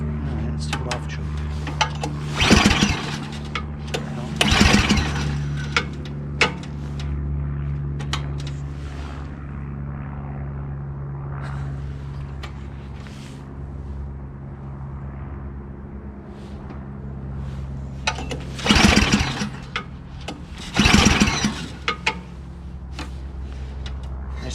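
Ariens 2016 Deluxe 24-inch dual-stage snowblower with LCT engine running off choke, a steady low droning rumble throughout with a few louder clunks and bursts of noise near the start and end.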